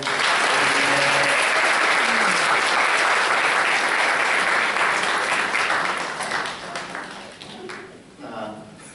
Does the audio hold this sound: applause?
yes